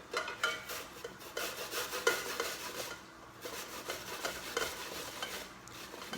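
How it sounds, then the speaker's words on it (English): Food rubbed against a guayo grater for a Puerto Rican arroz con gandules apastelado, giving a steady close rasping scrape in repeated strokes with a short pause midway. "we're gonna use what we call the wajon. We're gonna use this part. All right. And we're just gonna grate it."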